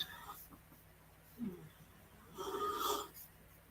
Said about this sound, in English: Snoring away.